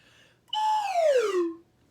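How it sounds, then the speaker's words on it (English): A slide whistle sounds one clear, loud note that holds briefly and then glides smoothly downward in pitch over about a second before stopping, heard alone in a quiet room. "or the slide whistle is moving down"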